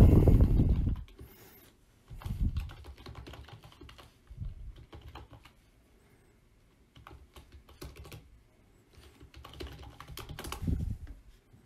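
Fingers type on a computer keyboard to log in, with bursts of close, quick key clicks separated by short pauses and a few heavier keystrokes.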